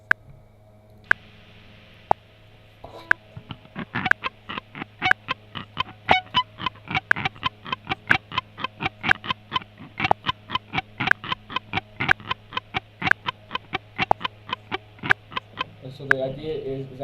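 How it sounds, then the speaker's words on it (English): Electric guitar through a distortion effect, picked in a steady, evenly spaced rhythm of sharp repeated notes at a moderate tempo, fairly quiet and heard alone. "I'm gonna turn on some distortion just so we can get a little bit of noise going"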